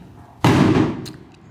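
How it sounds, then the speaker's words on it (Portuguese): A New Year firecracker rocket goes off with one sudden loud bang, then a crackling, fading rumble and a few faint pops afterward. "o rojão"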